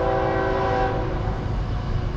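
A CSX manifest freight train M406, led by an AC44CW locomotive at Middlesex, New Jersey, sounds its horn in one loud, sustained, close blast over the heavy rumble of the passing train.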